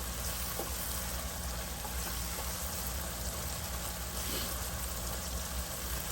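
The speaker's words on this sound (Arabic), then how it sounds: "هنا هو عندي الجارليك اللي هو الثوم، واقلبه مع البصل يبتدي ياخد الريحه بتاعته شويه" Garlic fries and is stirred with onions in a pan, making a dense, steady sizzle that holds at one level throughout, close and continuous with no voices.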